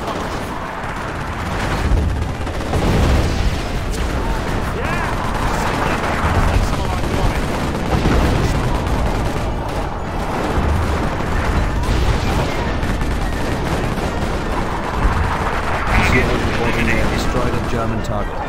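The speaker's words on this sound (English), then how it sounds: "Target my smoke and fire the howitzers." Howitzer artillery fire in the World War II strategy game Company of Heroes: Opposing Fronts, during the Liberation of Caen, with repeated heavy booms and crackling gunfire in a loud, continuous battle din, and game voices partly buried in the mix.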